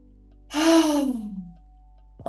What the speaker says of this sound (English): A deeper inhale.